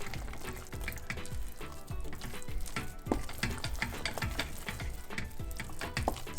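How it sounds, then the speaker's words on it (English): Thick khichu (papdi no lot) dough being stirred steadily in a pot, a close, continuous run of sticky slaps and scraping knocks in a quick, uneven rhythm, with no voices. "you want to keep stirring it until it's smooth"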